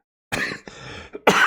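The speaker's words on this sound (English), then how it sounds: "excuse me, bit of a cough." A few quick, close coughs, a harsh burst, a short catch, then another rough cough, with no talking around them.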